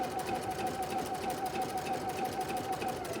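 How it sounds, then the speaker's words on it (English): Sewing machine running steadily in reverse, stitching backwards along the edge of a fabric strip on a bunny quilt border, a continuous close whirring hum with a fast rhythmic needle patter throughout. "Now it's stitching backwards, going up along the side of that fabric strip"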